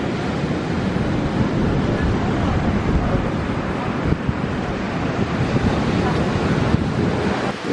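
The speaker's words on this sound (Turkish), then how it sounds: "Dalgalar biraz fazla kuvvetli." Heavy ocean surf pounds a beach in Bali in a constant loud roar, with wind buffeting the microphone throughout and no clear voices.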